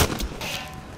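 A single sharp gunshot in the video game Hell Let Loose, loud and close, with a short metallic ring-down afterward.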